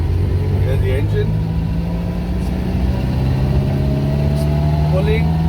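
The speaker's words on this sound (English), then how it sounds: "Here's the engine." A small 1980 Premier Padmini (Fiat) car engine runs steadily with a low, even hum and rumble, with faint voices talking over it.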